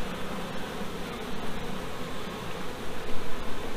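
A dense, continuous buzzing of many honeybees around a queen being marked, close and steady, filling the whole stretch with a droning hum.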